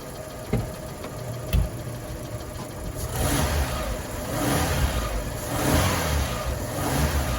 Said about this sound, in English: Give it a few more revs.